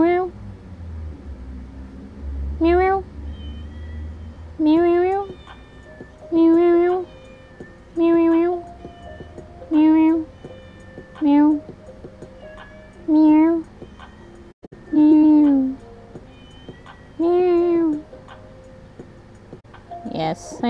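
A hungry cat meows again and again, about nine clear, evenly spaced cries roughly two seconds apart, over a soft ticking in the background.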